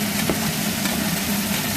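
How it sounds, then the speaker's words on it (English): Steady sizzling of olives, tomatoes, onions and mushrooms frying in a pan, a continuous crackling hiss over a low hum, with no talking. "The olives and the tomatoes, and the onions and the mushrooms are all frying in the frying pan, Jack."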